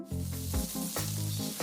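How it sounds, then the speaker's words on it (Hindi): Sausages fry in a pan with a steady close sizzle, brief and fairly quiet, with small crackling bursts throughout and no talk. "सॉसेजेस फ्राई होने के बाद सिकुड़ गए हैं।"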